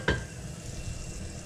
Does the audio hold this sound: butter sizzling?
yes